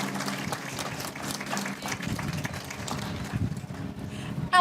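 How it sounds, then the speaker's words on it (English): Applause from a pageant audience for teen contestants at a rice festival, a moderately distant, uneven patter of many hands that ends in a brief louder burst. "Let's give our teen contestants one more big round of applause."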